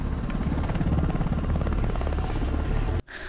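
Military helicopter in a combat scene from the war film Black Hawk Down, a loud, close rotor chop pulsing rapidly and steadily with a heavy engine whine until it cuts off abruptly near the end.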